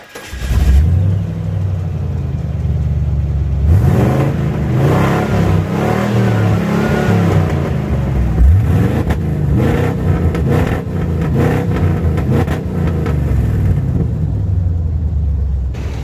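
An old 7.4-litre 454 gas engine with a slight miss runs close and loud, with a deep rumbling idle and a few throaty revs that rise and fall.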